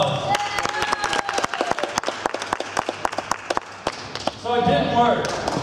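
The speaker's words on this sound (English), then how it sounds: "Give the priest a round of applause." Audience in a church at a sermon clapping for a priest, sparse individual claps rising into brief scattered applause, fairly close in a reverberant room, with a voice briefly audible near the end.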